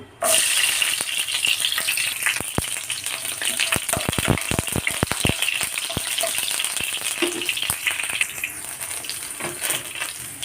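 Small shallots sizzle and fry steadily in hot coconut oil in a pan, a loud continuous crackle with occasional sharper pops and stirring rattles, no talking over it.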